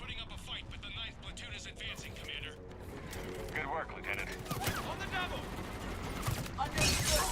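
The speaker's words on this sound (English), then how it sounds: "Commander, we're getting a lot of mortar fire." Mortar fire in the Mass Effect video game comes through as rapid, repeated gunfire bursts and thuds in a chaotic battle, moderately loud, with a voice speaking over the combat.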